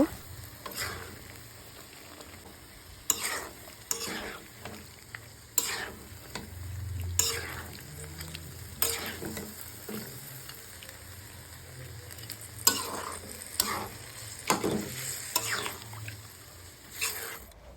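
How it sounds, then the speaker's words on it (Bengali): Cow head meat is stirred into frying spices in a pan, with scraping stirs repeating at irregular intervals over a low, steady sizzle, heard close. "আগে থেকে ক্লিন করে রাখা মাংসগুলো এখন মশলার ভিতর দিয়ে সুন্দর করে মিক্স করে নিব।"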